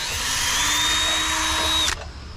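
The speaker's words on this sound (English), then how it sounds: "Just let it drill slowly, nice and easy." A power drill whines steadily as it bores slowly into a propane regulator mount, a loud, close, sustained pitch that cuts off abruptly near the end.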